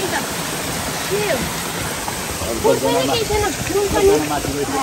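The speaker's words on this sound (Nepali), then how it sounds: "झरना झरना देखाइदिन्छ है यहाँ सानो झरना" A small waterfall on a hiking trail in Bukhansan, South Korea gives a steady close splashing rush, with a voice talking over it.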